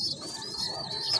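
Pigeons cooing close by, a brief bird vocalization with a soft tonal call over a low background murmur.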